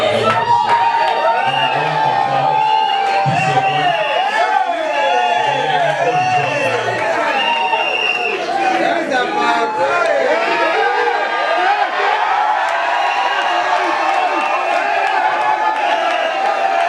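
Wedding guests at a vow renewal ceremony cheer and applaud together: a dense wash of clapping and crowd chatter, with shouts and whoops rising over it for a long stretch, while a voice talks over the start.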